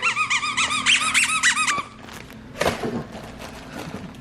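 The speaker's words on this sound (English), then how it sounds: "we got him this little reindeer that squeaks" A squeaky stuffed reindeer dog toy squeaks in a fast, repeated run of about a dozen sharp, loud squeaks, then stops, followed by a few soft thumps and quieter handling noises.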